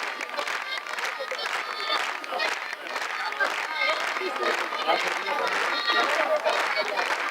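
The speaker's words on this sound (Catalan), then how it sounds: "Aquests aplausos, aquests aplaudiments." Audience applause at a 1995 Ballada de Gitanes folk dance event in Parets del Vallès, a dense continuous clatter of clapping hands that holds steady and fairly loud throughout, with crowd noise mixed in.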